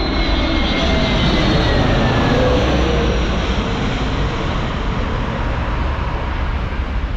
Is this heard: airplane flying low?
yes